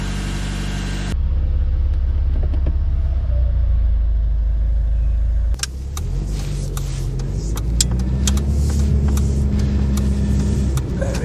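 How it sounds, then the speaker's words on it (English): A classic car's engine idles steadily while warming up on choke, a low continuous rumble with a shift in tone partway through and some faint clicks and knocks over it. "I think we'll let this car warm up for a few minutes"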